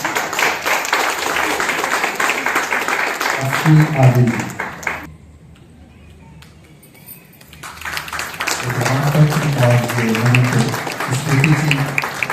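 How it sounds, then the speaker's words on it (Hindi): An audience at a state-level painting competition event claps for a yoga artist being honoured, with the applause running under an announcer's amplified voice, dropping away briefly to near silence, then swelling back up with more talk over it. "उनके लिए जोरदार तालियां"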